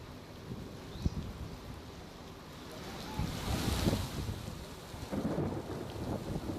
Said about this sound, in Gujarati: મોટી વડાળ નજીક પવન સાથે વરસાદ જોવા મળ્યો હતો